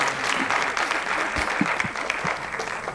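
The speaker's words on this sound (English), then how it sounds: "I think we should have a round of applause for their parents as well" A room of people at a sports and academics gathering applauding the parents, a dense steady round of clapping that holds at even strength for a few seconds without pause.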